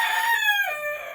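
A rooster crows once on a farm at chore time, a loud, close call that rises and then falls away over about a second, heard alone without talk.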